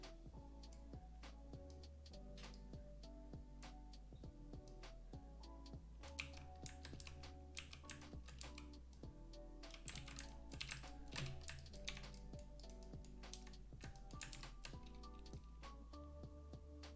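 Rapid clicking of computer keyboard keys, steady and close, over a sustained musical background with layered tones throughout.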